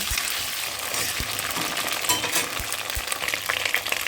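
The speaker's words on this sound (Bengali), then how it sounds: "এই আলু আর ব্রকলির ডাটাগুলো ভালো করে ভাজা ভাজা হয়ে গেছে" Potato and broccoli stems fry in oil with a cumin, ginger and green chilli paste, giving a loud, continuous sizzle with a few soft stirring thumps and no talk.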